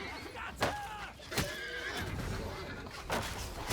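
Horses neigh in a video game battle during a slave uprising: several sharp whinnies come at intervals, with faint hoof clatter and a voice talking over the scene.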